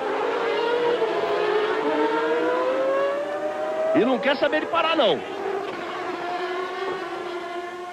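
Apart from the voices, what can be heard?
Formula 1 race car engine revving, tyres spinning on wet asphalt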